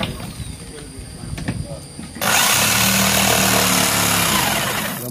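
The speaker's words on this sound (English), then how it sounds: "Jigsaw in here" Jigsaw cutting material for a homemade speargun, starting abruptly after a couple of seconds of quieter background and then running loud and continuous at close range to the end.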